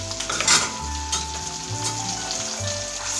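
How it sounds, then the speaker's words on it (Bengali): Onion with ginger-garlic paste frying in a pan for a katla fish curry with brinjal, a loud continuous sizzle broken by stirring scrapes and clinks, with no talk. "এবার পেঁয়াজে আদা রসুন বাটা পড়ে গিয়েছে, এবার একটু লাল করে ভেজে নেব"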